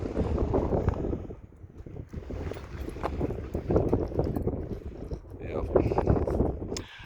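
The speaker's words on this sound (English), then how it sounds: "It's starting to get windy." Wind blowing along a road beside I-70 in western Colorado, a steady rough gusty rush over the microphone that rises and falls, with a person talking faintly under it.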